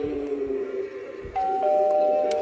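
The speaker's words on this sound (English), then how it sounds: "Then this eyeball doorbell." An eyeball doorbell Halloween decoration at a haunted attraction rings out as a steady electronic tone that begins partway through, held over a low crowd murmur and background hum.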